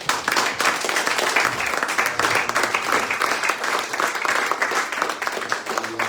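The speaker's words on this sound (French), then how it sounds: "Acclame pour Jésus." A church congregation bursts into sustained applause for Jesus during a worship service, dense, steady clapping from many hands filling the room without a break.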